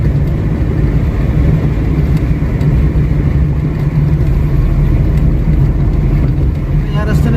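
A car cruises along an old expressway between Navi Mumbai and CST, filling the cabin with a loud, constant roar of engine and road noise.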